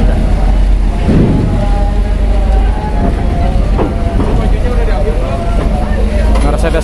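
A heavy bus engine roars loudly and steadily as the bus drives off a ship's car deck, with rattling and clanking over the continuous rumble and people talking nearby.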